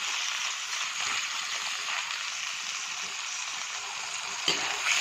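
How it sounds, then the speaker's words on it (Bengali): Chicken pieces frying in a pan for a chicken curry, giving a steady, moderately loud sizzle that runs throughout, with one brief clink near the end. "চিকেনটা একটু ভেজে নেব"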